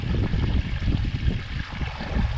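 Water trickles and burbles continuously at close range in a garden water feature, a soft, steady babbling with no voices.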